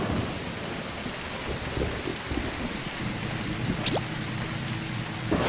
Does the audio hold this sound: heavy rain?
yes